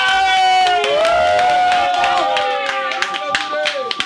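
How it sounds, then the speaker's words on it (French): Audience clapping at a Yopougon-style bada bar event in Paris, steady hand claps mixed with crowd noise and a sustained musical tone, with talk in the room over it. "Il faut l'applaudir encore plus fort, s'il vous plaît."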